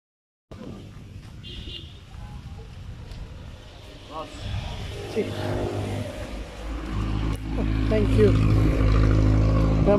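A motorbike engine hums along while riding and then revs louder, building to a strong roar toward the end, with people talking over it.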